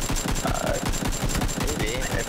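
Rapid automatic gunfire at a video game shooting range, a dense continuous burst of shots repeating steadily throughout, fairly loud and close.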